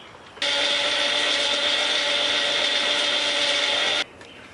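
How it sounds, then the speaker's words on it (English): A small blender grinds fertilizer granules into powder, starting abruptly, whirring at a loud, steady pitch for about three and a half seconds, then cutting off. "I'll let that little blender run"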